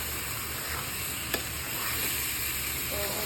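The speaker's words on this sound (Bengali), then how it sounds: "চালটা একটু ভেজে নেব" Soaked rice for pulao being fried in oil, a steady hiss and sizzle with a sharp utensil tap partway through, constant and close.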